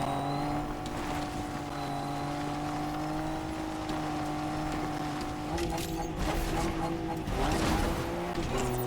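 A car engine drones steadily with a strong, even hum in the video game Fortnite, and tires squeal toward the end. The sound is mid-level and continuous, with no talking.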